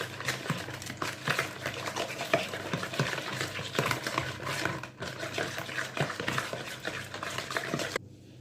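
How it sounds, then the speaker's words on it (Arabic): Milk and cake batter get whisked together in a bowl, a quick continuous rhythmic clatter of the whisk against the sides, fairly close and loud, stopping abruptly at the end. "من بعد ما طربنا كلشي"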